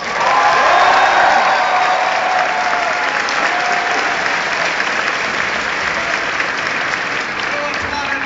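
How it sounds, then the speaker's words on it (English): An audience applauds for a voice actor at a Futurama panel, a loud sustained clapping from a large crowd that starts strong and holds steady, with a faint cheer early on. "You applauded me. You can't unapplaud me."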